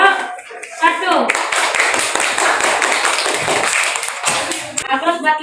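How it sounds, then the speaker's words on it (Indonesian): A school class claps for a student group, with brisk close clapping by several hands for about three seconds, bracketed by a teacher's voice before and after. "tepuk tangan untuk kelompok 1"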